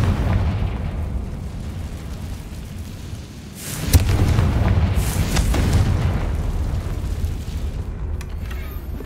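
A Confringo fire spell in the Hogwarts Legacy video game detonates with a sudden blast near the middle, followed by a rumbling, crackling roar that lingers over a dense background of game ambience.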